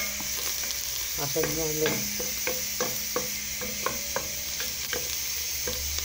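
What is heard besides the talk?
onion and garlic frying in Egyptian ghee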